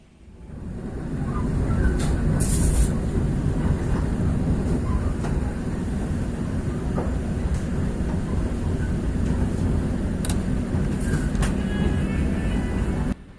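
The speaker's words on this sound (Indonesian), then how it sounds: "kereta api Jayabaya tiba di Stasiun Sidoarjo" The KA Jayabaya economy passenger train runs along the rails with a loud, continuous rumble. Faint clicks and rattles sit over it, and the sound swells in at the start and carries on steadily throughout.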